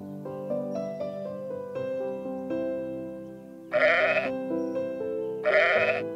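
A sheep bleats twice, loud and near, each cry about a second long, over a gentle melodic music backing with no talking.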